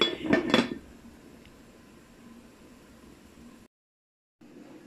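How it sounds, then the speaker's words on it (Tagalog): Metal lid placed onto a cooking pot of pork belly adobo, a short cluster of clanks and clinks at the start followed by quiet sizzling kitchen background. "Takpan muna natin guys yung adobo."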